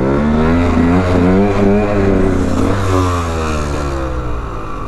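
A KTM EXC 125 two-stroke dirt bike revs hard during wheelie practice, its engine note climbing and wavering loudly and close by before easing slightly toward the end.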